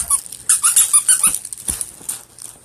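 A puppy chews a squeaky toy frog, setting off a rapid run of high squeaks mixed with soft snuffling and light whimpering close by.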